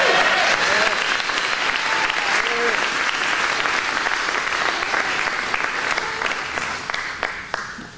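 An audience at a food sustainability talk breaks into sustained applause, loud and dense, with clapping tapering off toward the end.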